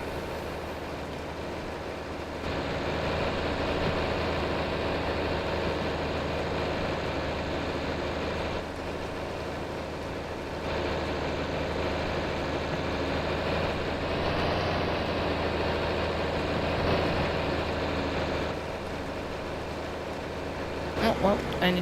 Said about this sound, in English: Oh, well, I need to move this tractor.